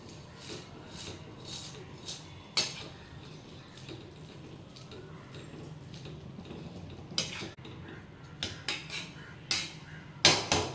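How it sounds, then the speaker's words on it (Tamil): Vermicelli being stirred in a pan on a low flame gives soft scraping and rubbing with occasional sharper clinks of the utensil against the metal, steady and fairly quiet throughout. "சேமியாவை நம்ம கிண்டி விட்டுக்கலாம்."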